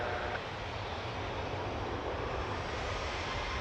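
A WestJet Boeing 737-800 airliner at Toronto Pearson, heard as a steady broadband jet engine roar, loud and continuous for a few seconds.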